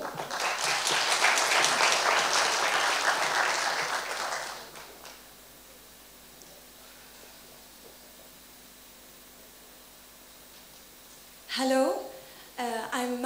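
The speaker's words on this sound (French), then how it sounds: "On peut les applaudir" Audience applause at a Mazinnov event on a Saturday, loud steady clapping for about five seconds that then stops, leaving quiet room tone until brief speech near the end.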